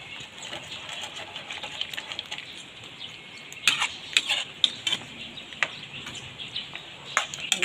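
Chicken with oyster sauce gets stirred in a pan: light scrapes and clinks of a utensil against the pan over a faint background, growing into a run of sharper, irregular taps toward the end.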